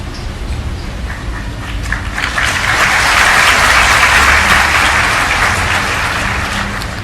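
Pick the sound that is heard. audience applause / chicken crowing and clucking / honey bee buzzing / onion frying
audience applause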